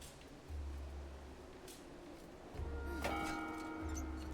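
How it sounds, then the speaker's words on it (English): Gong struck in the video game Song of Nunu, a single metallic ringing hit midway that lingers over low droning game music, fairly faint. "I guess I can hit that gong and then"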